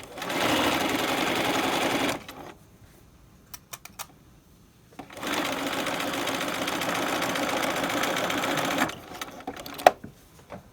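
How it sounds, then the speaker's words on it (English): Sewing machine stitching down an invisible zipper in two loud, steady bursts of rapid mechanical whirring, separated by a quiet pause with a few light clicks, ending with a sharp tap. "And from here, we sew all the way down to the end."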